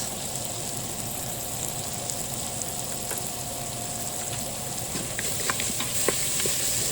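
Ribs sear in a pan with a dense, steady hiss and sizzle that swells slightly toward the end, with a few faint crackles and no voices.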